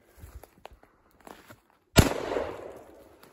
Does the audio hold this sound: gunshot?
yes